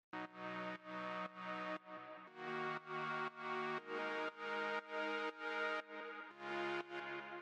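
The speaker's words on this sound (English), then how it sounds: "the next thing we have here is this chord synth" A chord synth plays a progression of sustained chords, each block held about half a second to a second with short gaps between, clean and alone with no voices.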